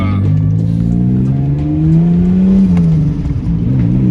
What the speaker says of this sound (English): that turbo flutter, it's nice, bro, I ain't gonna lie. And it's pretty loud too.